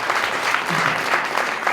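Loud, dense clapping from a church congregation at a Christmas prayer service in Faridpur, Jalandhar, sustained evenly throughout as a welcome, with no voices over it.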